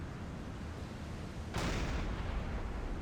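A submarine deck gun fires once in Silent Hunter 5 at sea, a sudden loud boom that decays into a rumbling tail over faint background ambience.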